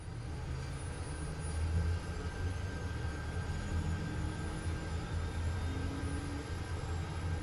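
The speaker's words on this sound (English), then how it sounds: "Turn on engine 1." Steady low turboprop drone of a DHC-6 Twin Otter's engine 1 spinning up in a flight simulator, a constant rumble with faint tonal whine, continuous and even throughout without talk.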